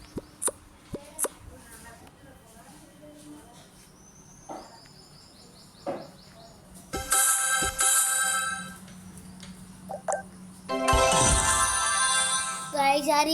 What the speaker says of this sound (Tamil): சாரி ஃபோன் வந்துருச்சு.